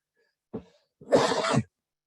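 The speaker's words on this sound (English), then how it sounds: "excuse me for my cough here" A short throaty catch is followed by one harsher, fuller cough, close and isolated against silence.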